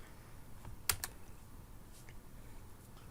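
Computer keyboard keys tapped to enter a year into a form field, heard as a couple of quick, faint clicks close together against a quiet room hum.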